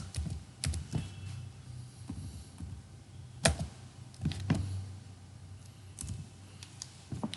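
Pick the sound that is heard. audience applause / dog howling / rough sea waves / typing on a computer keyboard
typing on a computer keyboard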